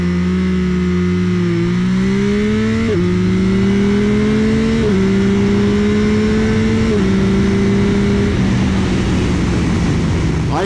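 A 2021 Yamaha Tracer 9 GT motorcycle accelerates hard from a standstill in a 0–100 race against a BMW 1200 GS. The loud engine note climbs steadily, breaking at several quick gear shifts, with no talking.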